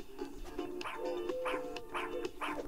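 A small dog yips and barks in a repeated run of short, fairly close calls during an indoor scent-tracking game, searching for a hidden person.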